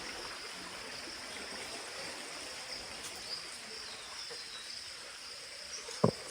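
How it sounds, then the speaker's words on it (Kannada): A stream flows steadily beside a Mahadev temple in Kamalnagar, giving a soft, continuous trickling wash with insects chirping faintly over it and one short knock near the end. "ಇಲ್ಲಿ ನೀರು ಹರ್ಲತ್ತ ನೋಡ್ರಿ, ಹಳ್ಳ ಅದ."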